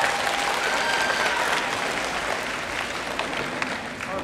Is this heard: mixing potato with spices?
no